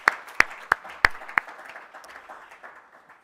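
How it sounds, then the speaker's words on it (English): A few sharp, evenly spaced hand claps stand out over a soft patter of scattered applause from a small audience at a talk on healthy cities, quickly thinning out. "Let's give this guy a warm round of applause."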